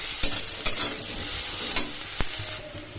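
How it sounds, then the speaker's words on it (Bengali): Continuous hiss of eggplant frying in oil, broken by a few light clicks of a utensil against the pan. "ভালো করে লবণ দিয়ে ভাজলে বেগুনটা তাড়াতাড়ি সিদ্ধ হয়ে যাবে"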